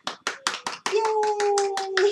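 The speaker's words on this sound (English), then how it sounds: "All right, let's clap." Hands clap in a steady even beat, about ten crisp claps near the mic, while a voice rises in a long sung tone over the later claps.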